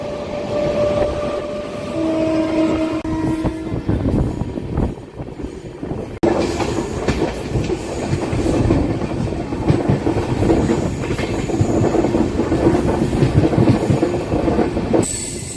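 The Satavahana SF Express, a passenger train with new LHB coaches, runs on the tracks with a loud, continuous rumble heard from on board. Rhythmic wheel clatter and occasional squeal come through, and the sound shifts abruptly partway through.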